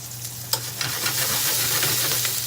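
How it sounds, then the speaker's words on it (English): Food sautéing in a little oil in a pan, a steady close sizzle with hissing and a few sharp spatula taps, no one speaking. "Now we're sauteing."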